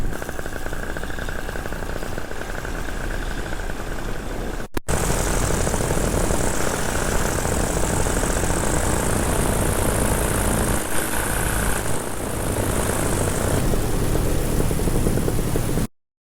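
A paramotor engine drones continuously in flight, loud and steady with a dense buzzing roar and a brief dropout near the middle, no speech over it.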